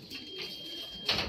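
Racing pigeon cooing near its loft, a soft low murmur carried under steady outdoor background noise, with a brief brighter burst near the end.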